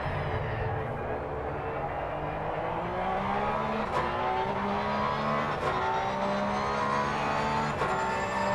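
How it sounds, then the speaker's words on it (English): Race car engine in a sim racing game pulling hard through low gears, a steady loud drone with rising engine tones and occasional gear-change blips, dense and continuous throughout. "You can hear May is starting off in really low gears, trying to get as much acceleration out of their"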